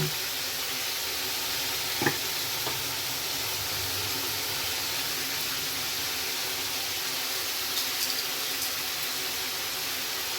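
Gundukai fry sizzling steadily in a pan, a broad, even hiss that runs the whole time, with a few faint clicks from stirring, and no talking.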